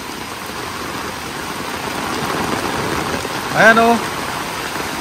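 Heavy rain pours steadily during a typhoon in the rural Philippines, with fast-flowing irrigation water rushing toward yards, making a constant broadband wash; someone speaks briefly near the end over the downpour.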